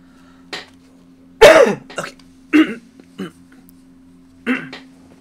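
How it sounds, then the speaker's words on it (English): Several harsh coughs and throat-clearing bursts in quick, irregular succession, close and loud against a steady low hum. "why do I cough when I start streaming?"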